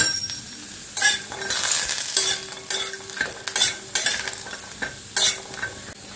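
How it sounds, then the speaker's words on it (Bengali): Dried lentil dumplings (bori) fry in hot oil, giving loud bursts of crackling sizzle with stirring scrapes and a few light clinks over a steady hiss, swelling and easing in waves. "ভেজে নিচ্ছি।"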